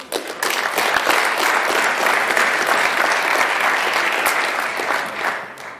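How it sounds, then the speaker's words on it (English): Audience applause at the live draw for the Men's EHF EURO 2020 handball qualifiers, clapping rising quickly, holding steady for several seconds, then thinning out at the end. "A little applause for him."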